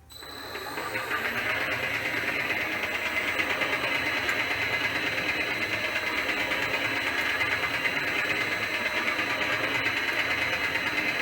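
An Elliot 14S machine starts up and settles into a steady, even mechanical hum with a fine rapid pulsing at 50 hertz, close and continuous with no talking.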